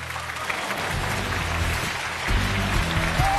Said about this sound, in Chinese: 掌声有请这一对，有请